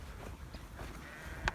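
Sheep bleat in an open field, a single short call rising briefly near the end over a quiet outdoor background.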